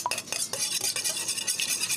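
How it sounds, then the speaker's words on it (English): Eggs whisked in a bowl for breakfast, quick rhythmic clinking and scraping strokes of a whisk or fork against the bowl, close and fairly soft, with no voices. "gonna put those eggs in with the other and we're gonna whisk them up"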